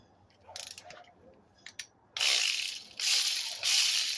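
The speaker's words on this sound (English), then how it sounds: "if you're using a ratchet, just use your fingers because you don't want to break this plug down there" Ratchet tightening spark plugs on a 2006-2011 Toyota Camry engine: a few short, sparse clicking bursts, then louder, sustained rapid ratcheting strokes close up. No one speaks.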